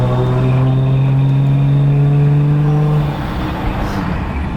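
A Toyota Supra MK4 engine revs loudly and close by, a steady droning harmonic held for about three seconds before easing off into a rougher, lower idle.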